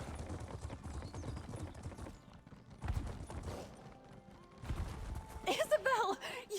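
Hooves clip-clop in bursts during horse racing in The Elder Scrolls Online, mixed with game music and effects, with a voice talking over parts of it.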